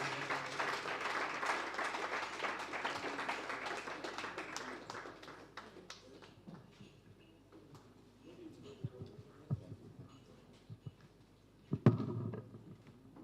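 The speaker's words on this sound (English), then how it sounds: "Please, can you give him a round of applause?" Applause from an audience at a proprietors' and principals' conference at Babcock University, a dense burst of clapping for the first few seconds that thins into scattered claps and room noise, with a louder knock near the end.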